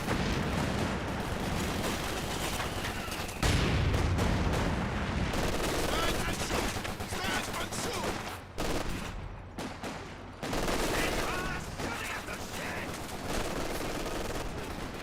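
Company of Heroes 2 battle: dense, continuous gunfire with machine-gun bursts and booming grenade and rocket fire, loud and crowded throughout with brief lulls near the end.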